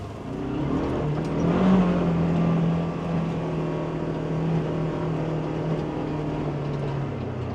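A Polaris off-road vehicle drives across Montana ranch land, its engine a steady, close drone with a slight swell in revs early on, then settling into an even hum throughout.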